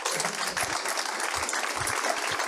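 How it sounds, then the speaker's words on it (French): Audience applause at a French screening-and-debate event, a steady broadband wash of many hands clapping that fills the whole stretch at a consistent, fairly loud level. "je voudrais qu'on t'applaudisse."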